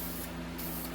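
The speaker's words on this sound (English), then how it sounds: "we're going to start painting this and get a nice thick coat on these" A short, close hiss of spray paint laying a thick coat onto brake drums, one continuous burst at even loudness.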